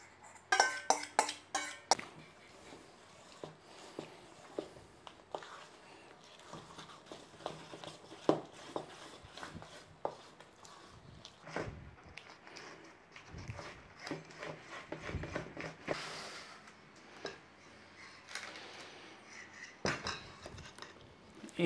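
Milk is stirred into a traditional Yorkshire parkin cake batter in a bowl, giving irregular clinks and scrapes of a utensil with a few sharp knocks early on, close but fairly quiet, with no voices.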